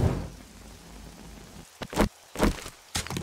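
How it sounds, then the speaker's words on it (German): Rain in the video game 7 Days to Die, a steady hiss of rainfall heard from indoors, broken by several loud close thuds or footstep-like impacts in the second half, with no talking. "Weil da draußen mal wieder Regenwetter sein muss."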